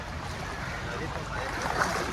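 Small boat gliding on the river at Hogenakkal Falls, a steady rushing of water and wind buffeting the microphone, continuous and close.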